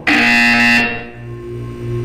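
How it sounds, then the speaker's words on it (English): A buzzer sounds in the Portal 2 video game, a single loud, harsh electronic tone held for under a second before cutting off, leaving a lower hum fading away. "When you hear the buzzer, look down at the floor."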